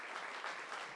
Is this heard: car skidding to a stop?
no